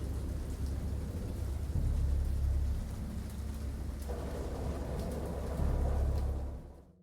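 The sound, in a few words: thunderstorm in video game Dagon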